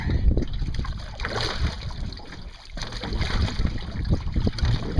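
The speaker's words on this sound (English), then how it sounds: "Just like paddling one kayak. Except with a bit of extra resistance." Two kayaks joined side by side are paddled through open water, with a steady rush of wind and water noise across the microphone and soft paddle strokes underneath.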